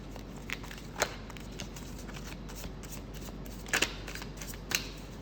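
Modern Witch Tarot cards are shuffled and pulled close by, giving soft riffling rustles with a few crisp snaps of cards against a quiet background.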